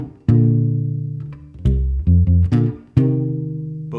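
Bass guitar plays the intro of a song in a well-known bassist's style, ringing double stops in clear repeated notes that sustain and decay, played solo and close.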